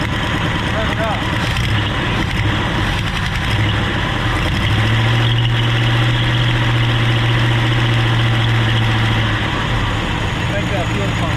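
A 1968 Ford XL engine runs roughly and is revved, a loud low drone that swells and holds a steady rising tone midway before settling back, with people talking over it.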